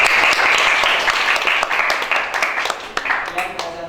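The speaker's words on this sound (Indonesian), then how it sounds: "Kasih tepuk tangan buat" A room of students applauds after a group presentation, loud, close clapping that starts dense and steady, then thins into scattered individual claps.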